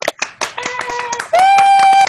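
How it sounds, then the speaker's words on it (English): Scattered, uneven clapping from a few participants in a virtual music recital, individual claps audible as separate taps, with sustained tones and voices mixed in over the online call. "on the count of three, everybody, let's give a round of applause"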